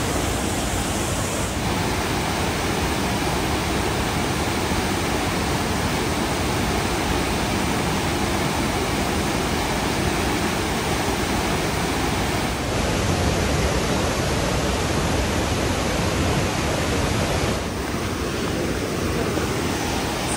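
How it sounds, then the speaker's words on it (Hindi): A hidden waterfall swollen after rain roars as a continuous, loud, broadband rush of falling water, unchanging throughout with no voices. "क्या झरना है भाई"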